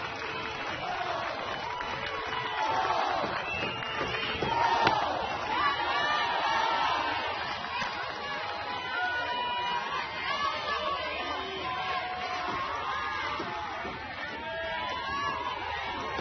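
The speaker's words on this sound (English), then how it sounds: "Crowd on its feet." A crowd at an NCAA softball regional final between Tennessee and Virginia roars and cheers steadily throughout, with a broadcast commentator's voice mixed faintly into the dense, sustained noise.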